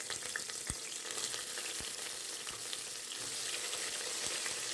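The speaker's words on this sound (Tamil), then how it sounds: "வெங்காயம் சேர்த்ததும் நல்லா வதக்கி விடுங்க." Onions sautéing in a pan for mushroom biryani give a steady, close hiss with a few faint stirring knocks, and no one talks.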